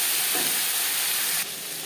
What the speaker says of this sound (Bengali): লবণ হলুদ দিয়ে 4-5 মিনিট বেগুন ভেজে নেব।